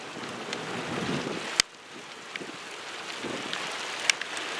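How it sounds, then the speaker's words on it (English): Large hail pelts down outdoors as a dense, steady rattle mixed with wind rush, broken by a couple of sharp, loud impacts close to the microphone. "We're getting some pretty good hail out here right now, and I'm getting pelted."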